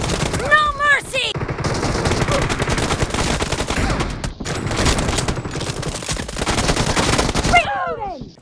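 Pistol gunfire in a shooter game crackles in dense, rapid bursts of loud close shots that run almost nonstop, with brief game voice calls at the start and end.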